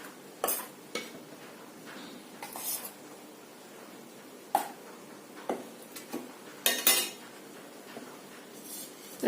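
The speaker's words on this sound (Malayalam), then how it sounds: "ഒന്ന് പതുക്കെ ഒന്ന് ഇളക്കി കൊടുക്കണം." Flour is gently stirred a little at a time into plum cake batter in a bowl, producing soft, sparse scrapes and light clinks of the spoon over a quiet background.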